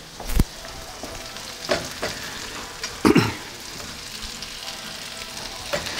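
Salmon frying in a pan, a steady soft sizzle with a few sharp clatters and scrapes of a utensil, close and moderately loud with no talking.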